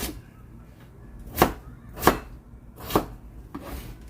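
A knife chops through a peeled potato on a cutting board in four distinct, evenly spaced strikes, fairly close, with quiet pauses between.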